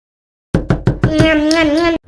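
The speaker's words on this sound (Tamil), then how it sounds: "சரணி கொஞ்சம் போய் இந்த கதவை திறந்து விடுமா" A quick series of four sharp knocks on a door, close and loud, followed by a sustained voice calling out.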